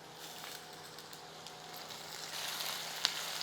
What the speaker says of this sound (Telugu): జస్ట్ ఆయిల్లో వేగనిస్తున్నా అంతే దొండకాయని